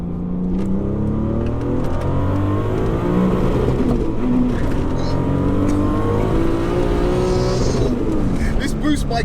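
An 800bhp sidewinder turbo Mk3 VW Golf, front-wheel drive, accelerating hard, its engine note rising and falling through gears from inside the car, with people talking over the loud continuous drone.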